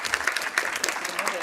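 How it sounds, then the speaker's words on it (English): Audience applause for the panelists at the close of a conference discussion session, a short burst of dense clapping that stays fairly steady throughout. "I think they deserve a round of applause for making this discussion in such a short time."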